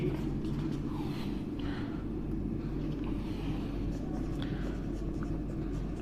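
Chalk scratching steadily across a classroom board while a geometry quadrilateral is written out, a continuous faint scraping over a low hum of room noise.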